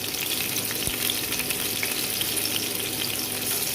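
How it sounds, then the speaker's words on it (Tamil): Green chillies, garlic and ginger frying in hot oil make a steady, close sizzle with faint stirring scrapes, continuous and unbroken, with no voices. "இஞ்சி பூண்டையும் பச்சை மிளகாயும் போட்டு நல்லா வதக்குங்க"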